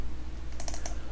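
A quick burst of computer keyboard clicks ending on a press of the Enter key, short and crisp over a low steady hum in a quiet room.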